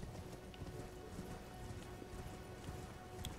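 Horse hooves clip-clopping in Elden Ring, a steady run of soft hoofbeats under a constant noisy game ambience, moderately near, with no talking.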